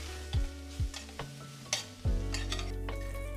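Roti upma being stirred in a pan with chopped roti pieces: several distinct scraping strokes of a spoon against the pan over a steady sizzle of frying food, close and fairly loud, no voices.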